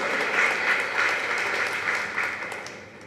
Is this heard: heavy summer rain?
no